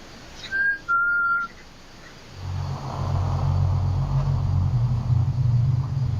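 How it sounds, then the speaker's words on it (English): Two short, clear whistle tones sound early, a brief one then a longer held note, followed by silence before a low rumbling drone like a passing vehicle builds and continues to the end. "Was that it? Just the whistle?"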